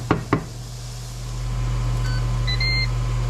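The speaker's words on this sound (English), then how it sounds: "the timer just ended for our meat" A kitchen timer for meat gives a few short electronic beeps over a steady low hum, after two sharp knocks at the start.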